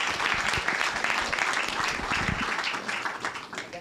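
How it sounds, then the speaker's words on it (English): An evening panel audience claps for a speaker, a steady dense round of applause that holds for several seconds and then begins to thin toward the end. "Can I have an applause for Mario"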